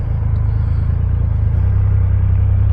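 Deep, steady rumble of a Triumph Rocket 3 GT motorcycle engine pulling away in first gear, loud and close, with the low drone shifting slightly partway through.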